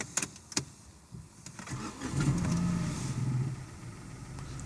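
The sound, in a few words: trying to start a non-running car's engine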